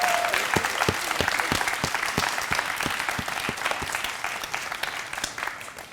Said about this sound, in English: let's give a round of applause to all of those talks.